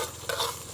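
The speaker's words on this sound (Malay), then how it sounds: "Kacau-kacau." Stirring in a wok holding a sauce of tamarind water, squid soy sauce and oyster sauce with lemongrass and kaffir lime leaves, frying for Thai-style phat phet chicken; a brief, close scraping stir over steady sizzling.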